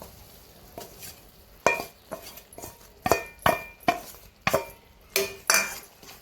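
Roasted flour being stirred into hot jaggery syrup for flaxseed laddoos, a spoon scraping and knocking against the pan in a string of irregular clinks and scrapes, close and moderately loud, with no talking.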